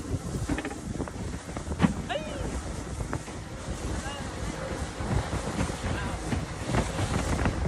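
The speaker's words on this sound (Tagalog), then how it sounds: "Sobrang mahangin, ay!" Strong wind roars and buffets steadily against the microphone, with rushing water and a faint voice in the background.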